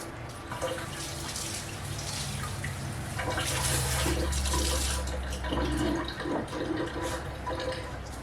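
Tap water runs steadily over dry 15 bean soup beans being rinsed in a kitchen sink, a continuous close rush that swells louder midway.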